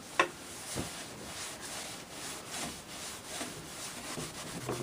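A dish towel rubs wax onto an antique wooden pie crust table, soft repeated swishing strokes in a steady back-and-forth rhythm, close and fairly quiet, with one small tap at the start.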